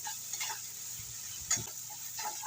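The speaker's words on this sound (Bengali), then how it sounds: "মশলাটা ভাজা ভাজা হয়ে গেছে হালকা তেল ছেড়ে দিয়েছে" Spice paste fries in oil for a yogurt-based rohu fish curry, a quiet sizzle broken by a few close scraping stirs of a spoon against the pan.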